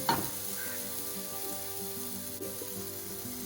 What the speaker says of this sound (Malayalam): 1 മിനിറ്റും കൂടി ഇളക്കി കൊടുക്കുക.